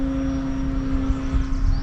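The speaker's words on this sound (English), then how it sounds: "That was my first time seeing somebody fly a plane out here." A small airplane flies overhead above a canyon state park, its steady propeller-engine drone holding loud and close throughout, with no voices.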